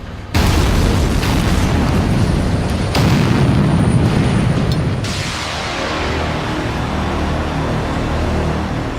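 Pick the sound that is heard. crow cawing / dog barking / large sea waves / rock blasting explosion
rock blasting explosion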